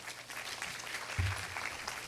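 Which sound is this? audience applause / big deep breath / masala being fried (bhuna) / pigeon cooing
audience applause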